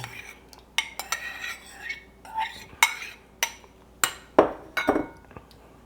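A spoon clinks and scrapes against a bowl while milk is stirred into thick cornbread batter, a run of close, irregular taps and knocks with short gaps between strokes.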